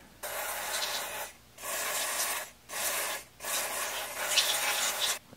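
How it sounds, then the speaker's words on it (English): Contact cleaner sprayed onto car switch contacts during a BMW E34 electrical repair, four hissing bursts of about a second each separated by short pauses, close and moderately loud. "Take our contact cleaner."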